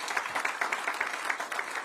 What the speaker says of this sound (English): So we have a big round of applause, please,